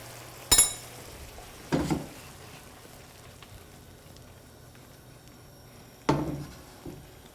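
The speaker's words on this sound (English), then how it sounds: "I'm just gonna let this saute for a minute or two to, again, reduce that white wine down" Shrimp pasta sauce sautés as white wine reduces in a pan, a soft low sizzle underneath a few sharp clinks and knocks of utensils against the pan spaced several seconds apart.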